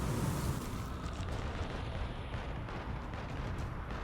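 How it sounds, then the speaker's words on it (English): A bomb goes off in a video game, a loud sustained rumbling blast of booming explosion noise that fills the whole stretch without letting up. "I'm dropping the bomb."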